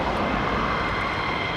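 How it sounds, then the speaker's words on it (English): A Boeing KC-46 tanker aircraft passing overhead, a loud, broad, steady engine roar filling the brief moment, with no voices. "KC-46 about to go overhead"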